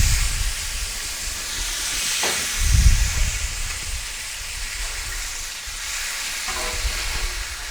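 Oil hits a hot Blackstone griddle during a hibachi cook, giving a broad, steady hiss and sizzle with a couple of louder scraping bursts and a low thump partway through.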